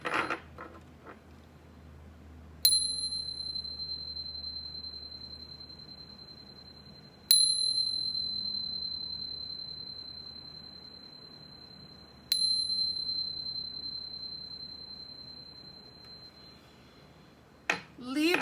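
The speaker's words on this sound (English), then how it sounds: "But first, let's chime." A chime bar rung three times at even intervals, each strike a bright, clear metallic tone that rings on and slowly fades before the next, with a faint rustle at the end.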